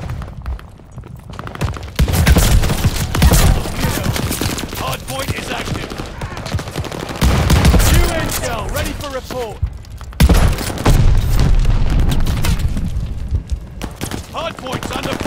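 Heavy gunfire from Call of Duty: Vanguard multiplayer fills the scene in dense, sustained bursts, loud and close throughout, with brief lulls before the shooting surges again under game voice callouts.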